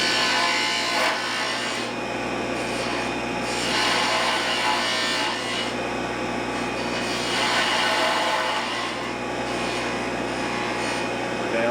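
A spindle gouge cuts wood on a spinning lathe during a woodturning demo, giving a continuous rough, rasping scrape that swells and fades in intensity, loud and close throughout.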